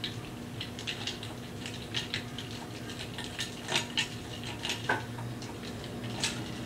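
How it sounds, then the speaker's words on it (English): A whisk taps and clicks quickly against a bowl as keto vanilla ice cream base is mixed over an ice bath, a light, fairly quiet rattling rhythm with a steady low hum behind it and no talking. "we want to go ahead and whisk this together over this nice ice bath"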